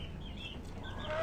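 Organic free-range hens on a farm give a few soft, faint clucks in a short burst. No one speaks.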